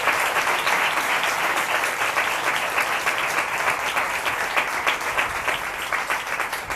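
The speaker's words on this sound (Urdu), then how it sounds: "ایک مرتبہ سچائی ٹیلی ویژن کے لیے زوردار تالیاں بجائیں" Loud, sustained applause from a church congregation honoring Sachai Television, a dense continuous wash of many hands clapping that holds steady for several seconds.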